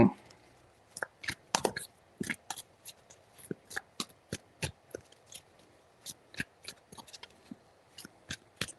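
Tarot cards shuffled by hand in a quiet room, giving a series of crisp riffling bursts and soft snaps spaced irregularly, close and moderately loud, with no talking.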